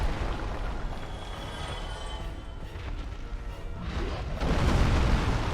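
Big explosions from a club attack against the Stray Demon in the video game Dark Souls: a dense, continuous rumbling roar of blasts and crashes that swells louder near the end, with no talk over it.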